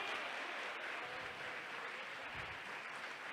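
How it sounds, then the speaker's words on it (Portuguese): Congregation applauding at a church service, a faint, steady wash of clapping from many hands that continues without pause. "Pode aplaudir, louva o Senhor."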